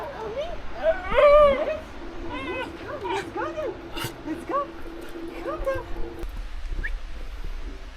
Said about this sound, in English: The dog whisperer already found a dog.